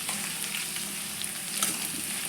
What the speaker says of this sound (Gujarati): હવે આપણે આમાં લસણ આદુની પેસ્ટ ઉમેરશું અને એને પણ આપણે સાતરી લઈશું